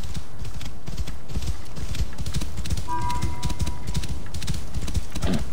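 Steady rapid hoofbeats of a galloping horse in the video game Assassin's Creed Origins, close and continuous, with a brief tonal chime partway through and no voices.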